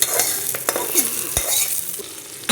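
A hot tempering of cumin and green chilies is poured into sabu khichuri, giving an immediate loud hiss and sizzle with scraping stirs and clinks of a utensil against the pot.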